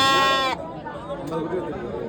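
At a Saturday goat market in Salem, a sheep gives one loud, close bleat lasting about half a second, followed by the murmur of the crowd and people chattering in the background.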